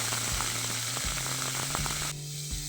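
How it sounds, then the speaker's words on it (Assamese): Cubes of paneer fry in hot oil with a steady, close sizzle that runs throughout, broken by a few soft clicks as the pieces shift in the pan. "প্ৰথমে পনীৰখিনি অকণমান সময় ভাজি ল'ম"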